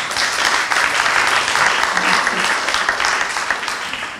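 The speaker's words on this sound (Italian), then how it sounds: "Facciamo intanto un applauso ad Anna." An audience at an Italian business talk on entrepreneurial ideas and business plans claps in a steady, dense burst of applause that lasts throughout and tapers slightly at the end, with no voices over it.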